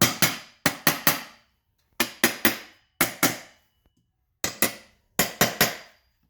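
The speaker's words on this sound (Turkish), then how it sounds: "pullara birazcık çekiç vuralım" A hammer strikes metal washers on a folding workbench in sharp, ringing taps, grouped in quick bursts of two or three with short pauses between, close and loud.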